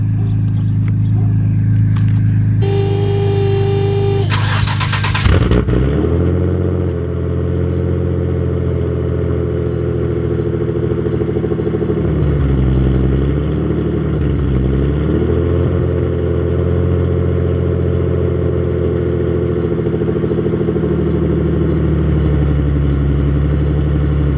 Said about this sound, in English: Now I want you guys to compare that startup with this one.